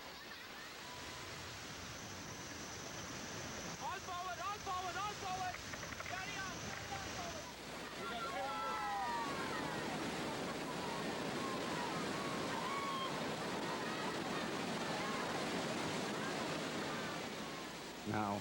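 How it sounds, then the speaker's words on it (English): Turbulent rapids of the Brahmaputra river roar as a broad, loud, continuous wash of churning water, with voices faintly audible beneath it. "the grip of a ferocious river like the"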